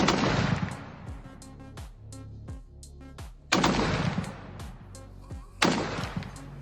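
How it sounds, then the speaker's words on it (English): Canik M2F twin .50 caliber machine gun firing outdoors in loud bursts, each burst followed by echoing booms rolling back from the surroundings, with three distinct volleys. "things like the M2F from Canik that I was able to fire last year, and we might shamelessly roll in a clip of me firing that."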